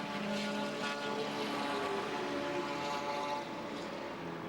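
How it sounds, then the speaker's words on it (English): A 750 Kawasaki racing motorcycle at nearly 260 km/h speeds down the straight at Surfers Paradise, a continuous droning engine roar heard from a distance, steady and fairly faint with no talking. "Hansford's bike's running at nearly 260 kilometres an hour, a 750 Kawasaki down the straight here"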